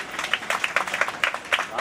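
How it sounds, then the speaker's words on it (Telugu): A crowd claps at a prana pratishtha consecration ceremony at the Bangaru Maisamma temple in Nyalkal. The close, rhythmic applause continues for a couple of seconds, mixed with voices. "చప్పట్లు గట్టిగా కొట్టాలని మనవి"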